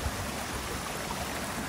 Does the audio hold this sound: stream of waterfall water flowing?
yes